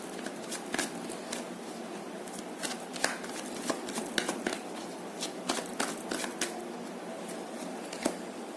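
Oracle cards being shuffled close up, a run of crisp riffling flicks and slaps from the deck repeating irregularly throughout, with faint handling noise and no talk.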